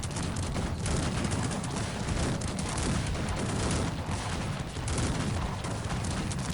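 Dense, continuous booming cannon fire from the strategy game Cossacks 3, heavy overlapping blasts rolling without pause.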